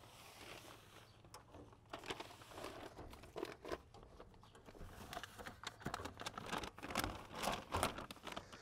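A bag of grass clippings is handled while being fitted to a rigid EcoGrassHopper hopper, with close, continuous crinkling and rustling and scattered sharper crunchy bursts throughout.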